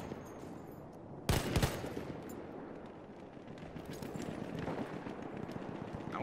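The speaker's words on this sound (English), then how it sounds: "This freaking field gun." Field gun firing in the World War I shooter Battlefield 1: one loud, close boom around the middle of the stretch, rising over a steady wash of distant battlefield gunfire and rumble that continues throughout.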